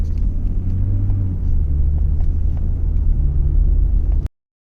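A BMW drives along the road with a steady low rumble of engine and tyre noise throughout, continuous and fairly loud from inside the cabin, ending abruptly.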